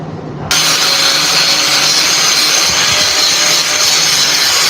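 Metal legs for a welding job being cut with a power tool, a loud, steady, harsh cutting noise that starts abruptly and runs on without pause, close by and alone.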